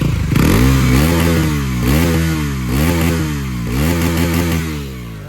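A Bajaj Pulsar NS400Z 400cc motorcycle engine revved hard several times in quick succession close by, each throttle blip rising in pitch and dropping back to idle, loud with no talking.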